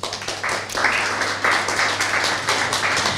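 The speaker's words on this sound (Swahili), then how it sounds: "Makofi kwa hilo tafadhali" A crowd claps in a short burst of applause, the clapping rising in waves over a low steady hum.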